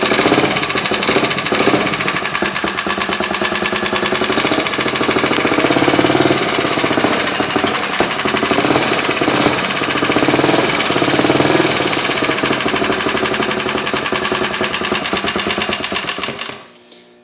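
A motorized bicycle engine on a 29er build fires up at half throttle and runs steadily for well over fifteen seconds, loud and rapidly popping like a small two-stroke, then cuts off at the end.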